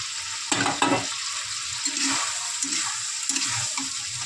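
Fried potato goes into a pan of sautéed prawns cooked down in oil, giving a steady sizzle under close spoon stirring and scraping, with no talk.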